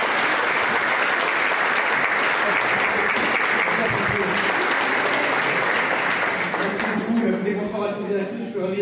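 An audience at an economics master class breaks into sustained, loud applause to welcome a speaker. The clapping stays dense for most of the stretch, then thins as a voice begins talking over it near the end.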